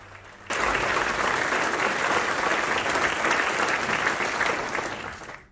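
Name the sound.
members of parliament applauding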